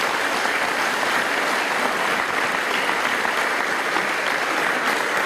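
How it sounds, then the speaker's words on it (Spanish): A church congregation claps in steady, sustained applause that fills the whole stretch at a fairly loud level, with no talking over it. "¿Y cuánto le da un aplauso a Jesucristo de Nazaret?"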